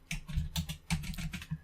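Keys clatter on a computer keyboard as a curl command is typed, a quick uneven run of close, crisp taps with short pauses, no voices.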